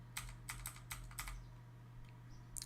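Computer keyboard keys pressed while coding a multiplayer UI in Fish-Networking: a run of about seven crisp, close keystrokes with uneven gaps, then a pause and one last tap, over a faint steady hum.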